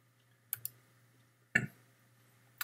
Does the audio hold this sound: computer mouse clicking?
yes